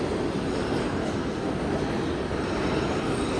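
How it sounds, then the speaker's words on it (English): A New York subway train rumbles through Rockefeller Center station, a loud, steady wash of rolling wheels and rail noise filling the platform without pause. "you can like see this stuff here with like the train up there sitting higher"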